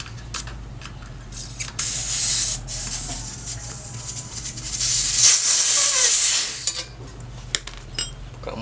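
Air hisses steadily out of the valve on the front tire of a Yamaha Vega ZR 115 cc motorcycle, a close, continuous spray swelling louder midway, with small metallic clicks scattered around it.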